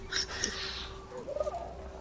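Bird calls in the Resident Evil Village horror game, a couple of high chirps followed by a lower gobbling warble over a steady ambient game drone.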